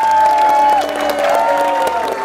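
Studio audience applause on the Indonesian game show Family 100, a brief burst of clapping heard under a sustained musical tone.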